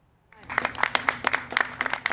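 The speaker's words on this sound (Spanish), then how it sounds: "Con aplausos y júbilo fue recibido el gobernador Gavin Newsom al firmar la legislación" Crowd applause and cheering greet California Governor Gavin Newsom as he signs COVID-19 sick pay legislation, with the clapping starting abruptly and continuing in irregular bursts, fairly close and moderately loud.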